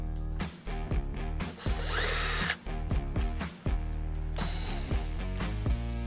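A battery power drill whirs in repeated short bursts, stopping and restarting, as it backs a screw out of the steering column trim on a Toyota Tacoma, loud and close with brief pauses between runs.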